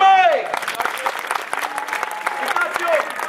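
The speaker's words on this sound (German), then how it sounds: "einen großen Applaus für Mike" A street-festival audience at an outdoor stage show claps for a performer, scattered, fairly close hand claps over about three seconds while a voice calls out at the start and end.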